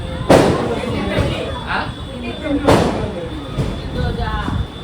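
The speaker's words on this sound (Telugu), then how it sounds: "ఎందుకలా బాంబులు కాస్తున్నారు?" Two sharp firecracker bangs burst outside a couple of seconds apart over a church congregation murmuring and someone speaking during a night prayer service.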